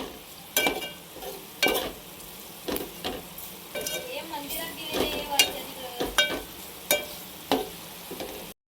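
Fish masala with asafoetida and turmeric fries in a pan, a steady sizzle broken by repeated scraping stirs roughly every second, close and moderately loud with no voices.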